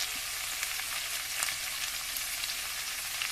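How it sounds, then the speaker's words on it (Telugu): Grated carrot frying in a pan of bajra semiya upma, a steady bright sizzle with faint stirring scrapes, close and even throughout without any voices. "ఇప్పుడు నేను తురిమి పెట్టుకున్న క్యారెట్ కూడా వేసుకుంటున్నాను"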